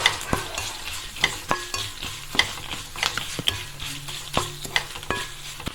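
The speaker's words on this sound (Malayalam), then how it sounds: "ഫ്ലെയിം നമുക്ക് കുറച്ച് വെച്ച് തന്നെ ഇളക്കി കൊടുത്തുകൊണ്ടിരിക്കുക" Mustard seeds and dried red chillies fry in hot oil while a spoon stirs them, a steady close sizzle punctuated by sharp pops and regular scraping clicks.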